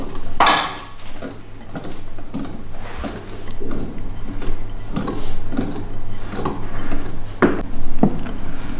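Flour, egg yolk and butter are whisked together in a bowl for a vanilla magic cake, producing steady close metallic clinks and scraping with a few sharper taps.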